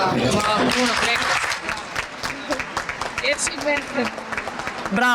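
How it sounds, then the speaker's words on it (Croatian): Applause for a scholarship recipient at an award ceremony, a steady crowd clapping close and full throughout, with a host speaking over it. "još jedan veliki aplauz za Maju"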